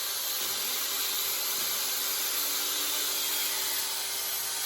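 A blender running off a lithium battery inverter runs steadily with a dense, whirring roar, constant and unbroken throughout, heard up close with no voices.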